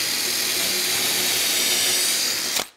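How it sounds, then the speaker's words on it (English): A power drill whines steadily while boring a hole into the center of the end of a wooden post held in a jig, loud and close, then abruptly winds down and stops. "drill a hole in the center of the end of the post"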